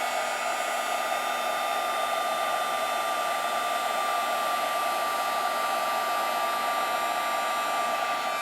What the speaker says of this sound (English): now I'm going to emboss this with the heat tool again